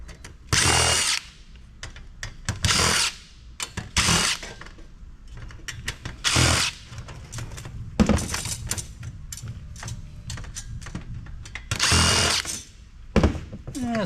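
A power screwdriver backs Torx screws out of an HP server in repeated short whirring bursts, each a second or so long with pauses between, close and fairly loud.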